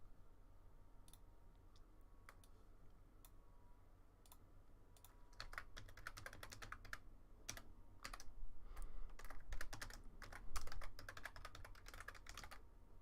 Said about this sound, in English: Terrible at typing.